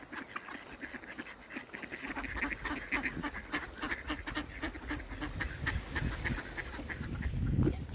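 A group of ducks in a park in Finland quack repeatedly in quick, overlapping bursts, close and fairly clear, with rustling and a louder thump of movement near the end.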